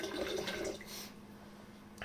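Water poured from a bottled mineral water over a V60 pour-over coffee brew, a soft steady trickle up close that tapers off after about a second.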